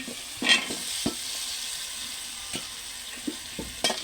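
Chopped potato, radish and eggplant sizzle in spice paste in a pan, a soft steady frying hiss broken by a few sharp stirring clacks and scrapes.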